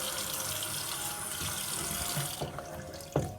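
Bathroom sink tap running steadily during a face-washing routine, a continuous close splashing rush that thins near the end, with a few soft knocks and clinks.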